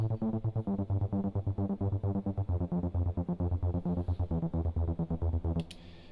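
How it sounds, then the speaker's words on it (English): A synth sequencer pattern with subsequence transpose modulation, rapid evenly pulsed notes repeating with shifting pitches and chord-like changes, played alone at a steady tempo until it stops near the end. "we have subsequence modulation on all notes in the pattern, and that sounds like this"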